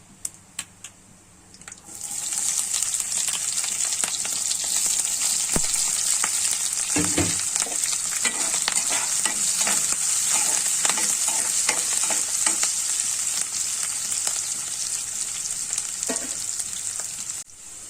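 Green chillies and onions drop into hot tempering oil, which erupts after a quiet start into a loud, continuous close-up sizzle with scattered spatula scrapes and taps running through the rest of the clip.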